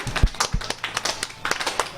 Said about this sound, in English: Just do a regular clap